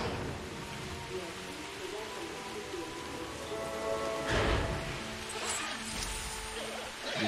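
Steady rain falls in the dinosaur park game Jurassic World Evolution, a constant hiss of drops on surfaces with a brief louder swell midway, while someone talks over it.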